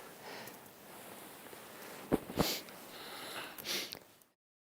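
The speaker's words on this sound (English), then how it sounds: "It is really interesting to see other people sniffing bottles" Snuff sniffed from a snuff bottle during a Lunar New Year custom, heard as a few sharp close nasal sniffs over a low background hiss.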